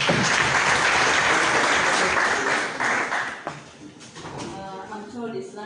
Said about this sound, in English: Can we applaud both Joel and Lewis?